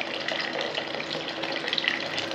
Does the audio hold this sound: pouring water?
yes